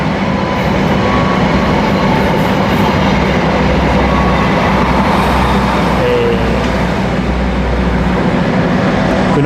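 Gunung Jati passenger train with a luxury dining car passing a station at Cikampek: a steady, loud rumble of rolling wheels and carriages fills the whole stretch, without talk.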